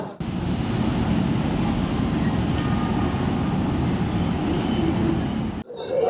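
The Coromandel Express stands at platform 5 of Chennai Central, producing a steady, loud rumble and hiss that holds evenly for several seconds before cutting off sharply, then resuming briefly.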